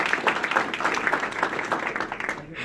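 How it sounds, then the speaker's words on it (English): Clapping rises from an assembled audience honoring Dean's List graduates at an Air Force ceremony, a moderate, even patter of many hands lasting a couple of seconds. "Please give our Academics Dean's List graduates a round of applause."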